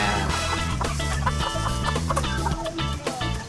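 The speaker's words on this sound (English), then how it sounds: "Is it time to release the chickens into their new home?" Backyard hens released into their new coop cluck and murmur continuously, several birds close together, busy and fairly loud with overlapping calls and no talking.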